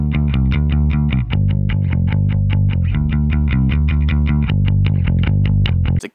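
Distorted bass guitar through an amp simulator with a Gallien-Krueger 4x10 cabinet impulse response and an Avalon preamp profile, playing a steady riff of punchy repeated notes, loud and up front, ending abruptly.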